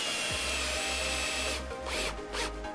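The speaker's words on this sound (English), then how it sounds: "let me take this thing up and drill from a better angle" A power drill whines loudly in several short bursts, pausing and restarting, close up with no talking, drilling holes to fit a cup holder on a Sea-Doo GTX 170 personal watercraft.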